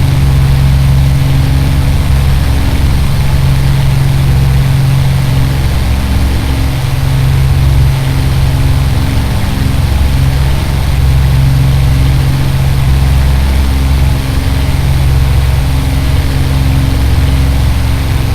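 Damaged Spitfire Mark I engine in a flight simulator, losing power with glycol streaming out, a loud steady low drone with a rough, uneven hum running unbroken and close.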